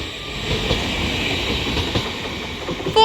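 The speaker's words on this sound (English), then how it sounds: "Now departing is going to be the 1644 Transpennine Express service to Newcastle from Liverpool Lime Street." A TransPennine Express class 802 train pulls away from the platform with a steady, loud rumble and rolling wheel clatter. A brief tone sounds near the end.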